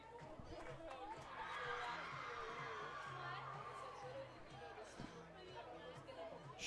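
Festive crowd of students from two schools at a lacrosse championship, a steady distant babble of chatter and cheering from the stands, fairly faint, with a commentator talking over it.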